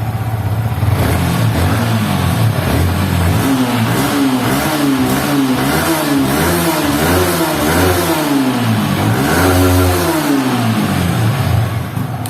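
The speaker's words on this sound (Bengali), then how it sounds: "এখন আপনারা বাইকের এক্সজস্ট সাউন্ডটা শুনুন।" A used Yamaha R15 V3 BS6 ABS motorcycle sits close by with its exhaust loud, revved repeatedly in rising and falling sweeps above a steady idle, with no talking over it.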